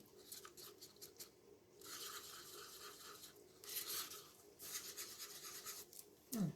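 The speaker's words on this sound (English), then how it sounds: "So, we'll get these stirred up first, and then I'll run them through the vacuum chamber." Pigment paste colors are stirred in small cups, making scraping, rasping strokes in several bursts, close and fairly quiet with no talk.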